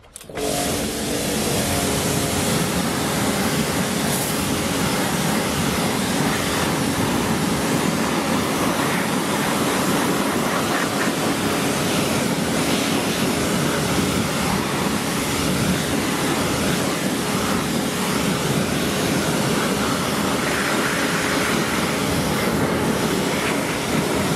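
Loud, steady water spray hisses close up for the whole stretch while rinsing a car's wheel arch, tyre and rim after a wheel cleaner test, with no talk over it.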